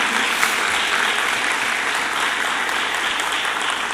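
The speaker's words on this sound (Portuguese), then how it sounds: "Você pode aplaudir a Jesus?" A church congregation applauds together, a steady, dense wash of clapping from many hands that holds at even loudness for the whole stretch, with no voices standing out.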